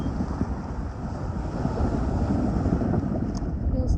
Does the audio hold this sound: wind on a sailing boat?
yes